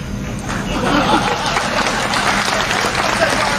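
Audience applause at a Hindi political rally, a steady wash of clapping mixed with crowd chatter that swells after the first half second and holds loud and dense throughout.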